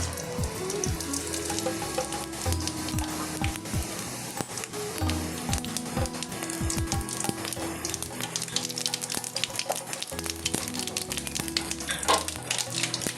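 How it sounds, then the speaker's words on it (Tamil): Mustard seeds and cumin sizzle in hot oil in a kadai for tempering. A loud, dense crackle of popping and sputtering runs nonstop throughout, close up and with no voices. "எண்ணெய் ஊற்றிட்டு வடைச்சட்டி வச்சு இந்த கடுகு ஜீரத்தையும் போட்டுக்கலாம்"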